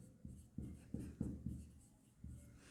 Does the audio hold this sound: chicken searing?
no